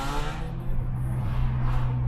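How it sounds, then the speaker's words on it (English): A Mercedes-AMG engine revs at a JDM car meet, a low rumbling drone that swells and holds, heard at moderate distance outdoors with no talk. "Spend 100 grand on an AMG just for it to sound like that."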